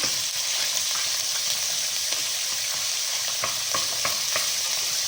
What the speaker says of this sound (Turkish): Şimdi bunu güzel bir şekilde kavuracağım.